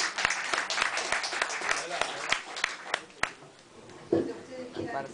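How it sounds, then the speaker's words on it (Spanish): An audience at an arts café event claps in a moderately loud burst of rapid, uneven hand claps that thins out over several seconds, with voices talking underneath. "Un aplauso."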